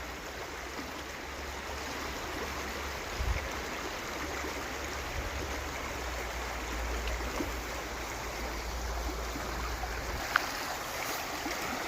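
Stream water rushing through an eroding brook channel as the Erie Canal is dewatered into Cross Canal Brook, a steady broadband flowing roar with low rumble, continuous and fairly close, no voices.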